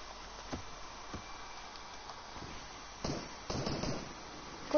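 Sharp, distant gunshot cracks in Fortnite pop sporadically, with a few louder bursts near the end, over a quiet background.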